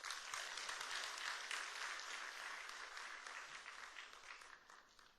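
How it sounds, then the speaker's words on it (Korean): Church congregation applause welcoming an elder to the pulpit at a revival meeting, a warm, even wash of clapping from many hands that gradually tapers off. "우리 박수로 환영하시겠습니다."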